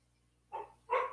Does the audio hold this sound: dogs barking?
yes